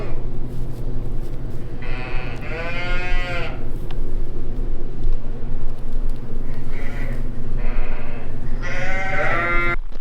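A lamb named Willy bleating on a farm in cold weather, several close, loud wavering bleats in a row, with the last ones coming in quick succession over a steady low background hum.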